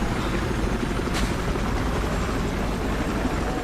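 Helicopter in the video game Battlefield Hardline, a steady broadband rotor and engine roar holding at a constant level for the whole stretch, with no voices over it.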